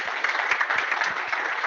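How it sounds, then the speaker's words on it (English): An audience at a general body meeting applauds, a short, dense burst of many hands clapping at an even volume from start to end. "Let's give her a round of applause."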